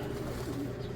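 A racing pigeon arriving at its loft after a long 411 km race from Matnog, Sorsogon, gives low, soft coos beneath steady outdoor background noise, faint and brief.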